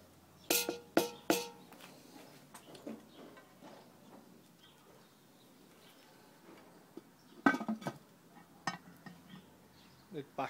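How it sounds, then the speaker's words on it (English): A spoon stirs pork ribs and Coca-Cola in a Dutch oven. Sparse metallic clinks and scrapes come in short clusters against a quiet background, loudest near the start and again later on. "Good stir now, lads."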